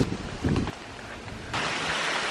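A breeze buffets the microphone outside a seaside hotel in Anguilla, a broad rushing noise that gusts and then settles into a steady roar. No one speaks.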